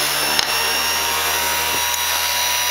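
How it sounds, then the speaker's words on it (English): A variable-speed mini bench grinder with a flexible shaft, rated up to 10,000 RPM, grinds down the corner of a piece of wood. It makes a loud, steady, close-up motor whine with a couple of brief contact scrapes. "Corner's grinding down nicely."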